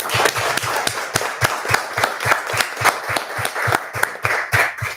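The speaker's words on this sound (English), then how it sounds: "can we just give them applause for what they do?" Applause for law enforcement at a regular town council meeting, a roomful of people clapping in a steady, rhythmic beat that holds loud and close throughout.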